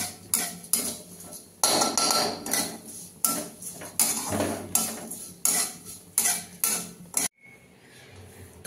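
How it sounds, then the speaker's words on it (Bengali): A metal spatula scrapes and clatters in a pan as vermicelli is stirred and fried in ghee, repeated sharp strokes in a steady rhythm, close and clear, ending in a quieter hiss. "চলো সিমুইটা আমি ভেজে নিই।"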